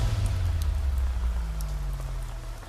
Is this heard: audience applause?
no